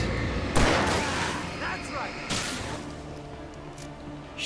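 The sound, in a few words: gunfire in the video game Alan Wake Remastered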